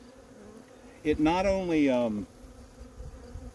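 Honey bees buzz at an internal hive feeder, a loud, close drone with wavering harmonics swelling for about a second, while someone speaks quietly before and after.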